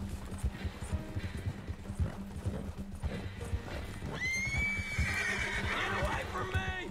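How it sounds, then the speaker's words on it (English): Horse in Red Dead Redemption 2 clip-clopping at a steady pace on the ground, followed by a loud, close, drawn-out neigh, with a person talking over it. "Come on, Hershey. Get there, Horsey."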